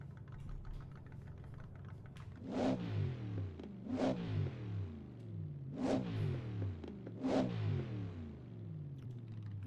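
Racing car engine in Assetto Corsa, a WSC Legends car at Riverside, revving in four loud surging bursts at about two-second intervals over a steady idle rumble, with no talk.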